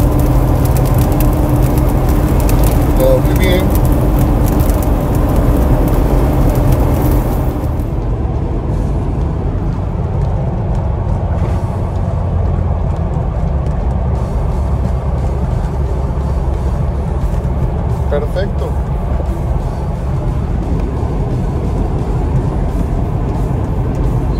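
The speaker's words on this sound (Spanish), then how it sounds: "Vamos a subir una pequeña rampa al freeway y vamos a ver la reacción del coche, del jeep" Jeep driving up a short freeway ramp, a loud continuous engine and road rumble with wind noise that quiets slightly partway through.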